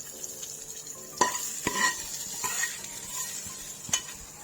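Chicken haleem being stirred in a pot with a spoon, making soft scraping and clinking knocks at an uneven pace over a low, faint sizzle, with no talking.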